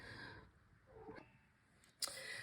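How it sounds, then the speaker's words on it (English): A faint cat meow rises briefly from a quiet room, followed by a short sharp knock and soft background hiss. "I don't know if you can hear my cat meowing in the background."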